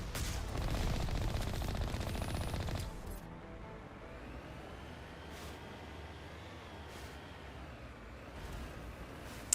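Geth turrets in Mass Effect Legendary Edition fire a loud sustained stream of automatic shots for about three seconds, then stop. Quieter ambient rumble and a few faint distant bursts follow.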